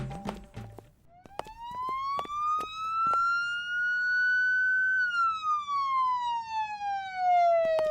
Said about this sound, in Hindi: ये सायरन की आवाज कहाँ से आ रही है?